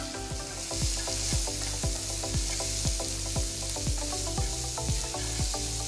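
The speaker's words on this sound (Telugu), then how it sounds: "ఆ తర్వాత చిన్నగా తరిగిన 1 పెద్ద ఉల్లిపాయని కూడా వేయాలి." Chopped onion frying in oil in a pan with popped mustard seeds and asafoetida, a steady loud sizzle punctuated by regular clacking strokes of a spoon stirring against the pan, no voices.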